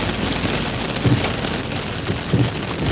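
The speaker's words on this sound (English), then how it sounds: "There's a couple pieces of hail coming down now." Hail and rain fall steadily during a tornado-producing storm in Iowa, a dense wash of noise with a few louder low thuds around the middle and end, no talk.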